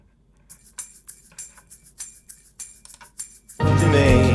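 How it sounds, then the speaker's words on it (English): Tambourine from a soft rock mix, a bright jingling shake repeating in a steady rhythm, played alone and fairly soft before the full band comes in loud near the end. "And a tambourine that's in certain sections."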